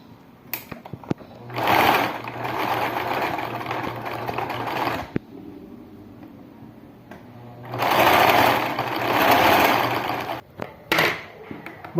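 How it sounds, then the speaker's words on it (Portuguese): A sewing machine stitches around the edge of a cow-shaped children's cushion, running in two long bursts of steady mechanical whirring, separated by a quieter pause with small knocks and handling sounds. "eu vou passar uma costura daqui, a volta inteira até aqui, tá? Então, eu vou na máquina"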